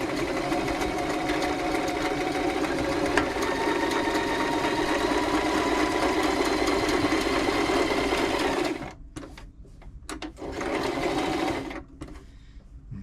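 A Toyota Oekaki RS2000 sewing machine stitching a zigzag runs at a fast, steady mechanical whir close up for about nine seconds, then stops, followed by a short second burst of stitching and quieter handling.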